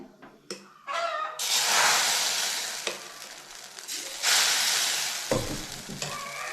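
Vellappam batter sizzles and fries in a hot pan instead of a dedicated appam pan, loud bursts of sizzling that swell and fade with a few clinks and scraping stirs close by.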